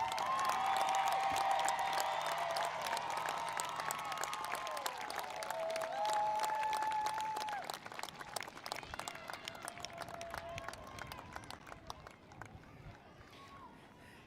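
Sustained applause from a large outdoor crowd at a 2021 high school commencement as graduates leave the field, dense clapping with cheers, gradually thinning out, with voices over the top.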